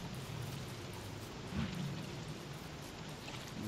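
Steady, dense rain hiss in the video game Don't Starve, like a downpour pattering on surfaces, continuous and even throughout with no voices.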